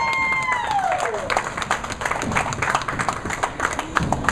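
Crowd at a JBT handicap finals event at Mira Mesa applauding and cheering a winning shot in a title match, dense steady clapping with shouts, near and loud, with voices mixed in.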